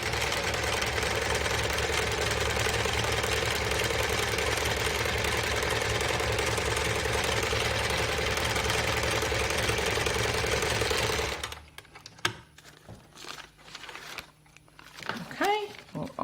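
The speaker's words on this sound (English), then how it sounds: "And then we're going to sew" A sewing machine stitches foundation paper-pieced fabric with a steady, loud mechanical whirr for about eleven seconds, then stops, leaving quieter handling and rustling sounds and brief talking.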